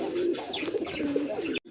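Pigeons coo close by in a short burst, low rolling calls repeating over a busy background before cutting off abruptly; these are silver native Rasgolla pigeons kept in pairs.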